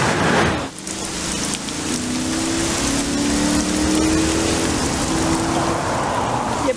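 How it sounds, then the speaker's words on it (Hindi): Heavy monsoon-style rain pours steadily in a dense, continuous hiss at a bus stop, with a low engine hum running underneath throughout. "एक तो आज बारिश भी बहुत तेज है"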